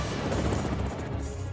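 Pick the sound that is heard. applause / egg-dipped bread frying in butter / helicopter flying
helicopter flying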